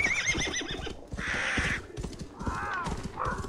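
A horse whinnies and neighs, with galloping hooves thudding beneath, in the Assassin's Creed Valhalla video game, with a few shrill calls over a steady run of hoofbeats.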